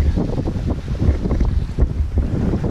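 Sailboat under way in light air, moving at around 5 to 8 knots on a broad reach with about 11 knots of crosswind, off the Mediterranean coast near Port-Cros; steady wind buffeting and water rushing past the hull, no voices.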